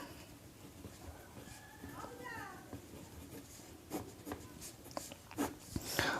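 Pen scratching on paper while a maths solution is worked out by hand, soft irregular strokes running under a teacher's steady speech in a quiet room.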